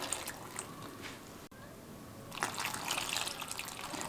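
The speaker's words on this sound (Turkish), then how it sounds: "Su ekliyorum." Water being added over chopped, salted eggplant in a bowl, a steady trickle and splash that brightens and grows louder in the last half, close and alone with no talk.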